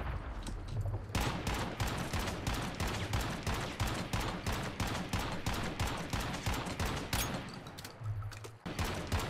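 Dense gunfire from the Once Human video game during a player base raid, a near-continuous barrage of sharp shots lasting several seconds with rapid rhythmic bursts, with no talking.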